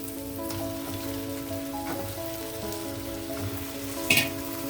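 Chicken frying in a pan with spices, giving a steady, close sizzle with crackling spatters under a low hum and a sharp pop near the end.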